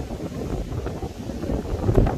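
Strong wind buffets the microphone in a steady, rough rumble, close and continuous for a couple of seconds, near the Niagara-on-the-Lake border area.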